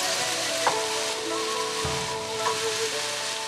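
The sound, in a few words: chicken, asparagus and green beans stir frying with coconut cream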